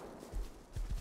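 Horse hooves in the game Rust thud faintly in a short, uneven clip-clop, muffled and low in level.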